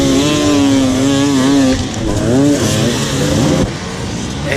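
An enduro motorcycle in second gear at the Erzberg Rodeo hard-enduro race climbs a steep, muddy hill, its engine loud and close, revving up and down in repeated surges.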